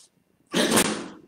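A single sharp human sneeze, close and fairly loud, bursting out after a quiet pause during a gentle mobility yoga session.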